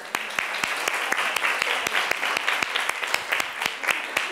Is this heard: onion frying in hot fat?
no